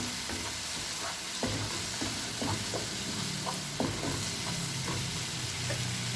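Green chilies being stirred into a pan of frying chole masala, with a steady sizzle and repeated scraping clicks of the spoon against the pan throughout.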